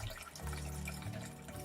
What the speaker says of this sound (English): Now it's time to pour the chilled concoction into our glass.